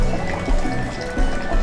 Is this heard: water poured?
yes